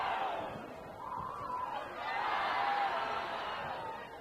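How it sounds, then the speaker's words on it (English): Football fans at a high school 5A playoff game between Viewmont and Cedar Valley chant and yell together in a rising and falling roar, a broad wash of crowd voices heard from a distance. "the yelling of the fans in synchronies"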